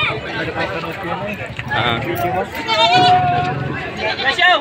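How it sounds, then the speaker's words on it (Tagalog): A large buck goat bleats several times amid a lively crowd of chattering voices at a goat market, with wavering, nasal cries rising above the background talk. "ang napakalaking barakong kambing na ito"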